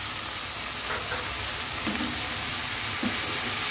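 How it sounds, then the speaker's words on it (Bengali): Noodles stir-frying in a pan with dark soy and tomato sauce, a steady close sizzle with a few soft scrapes of stirring, no talking. "জাস্ট এখন নুডলসটা দিয়ে নেড়ে রান্না করে নিতে হবে"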